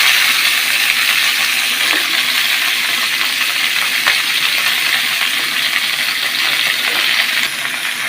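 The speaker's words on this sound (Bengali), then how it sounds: "কপিগুলো একটু তেলের মধ্যে ভাজি করে নিচ্ছি।" Cabbage frying in oil in a pan, a steady bright sizzle that holds evenly from start to finish with small crackles now and then.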